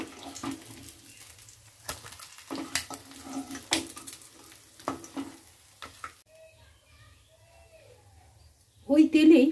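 Fish heads fry in hot oil in a pan for a Bengali muri ghonto, a soft steady sizzle close by with a person talking over it and clinks of utensils near the end.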